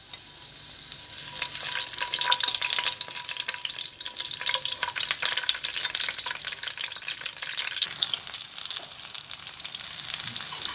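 Loud, constant sizzling and crackling of peppers frying in oil, close by, with occasional stirring and no voices.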